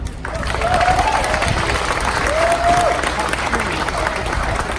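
Crowd applause at Dine Pride 2019, a sustained wash of clapping with a few cheers and whoops from the gathered audience, steady and fairly loud throughout.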